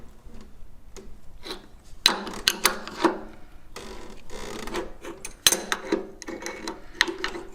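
Wrench loosening the rear axle pinch nuts on a Harley-Davidson Street Glide during a tire change; close metallic clicks, ratcheting and sharp knocks in irregular bursts, no talking.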